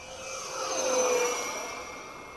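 A radio-controlled F18 model jet with elevon control passes overhead, a steady whining turbine-like tone that swells toward the middle and then fades slightly, heard alone without talk.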